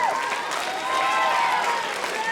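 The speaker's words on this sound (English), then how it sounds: "Big round of applause for" Audience applause for the combined choirs at a Black History program, continuous clapping with some crowd cheers and whistles over it.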